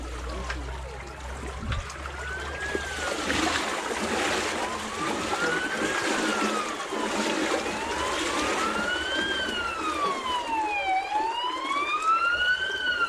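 A wailing police car siren rises and falls repeatedly, growing more prominent over time amid steady outdoor background noise.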